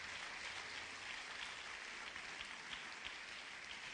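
Church congregation applauding during a sermon, a faint, distant, continuous patter of many hands held steady for several seconds without voices.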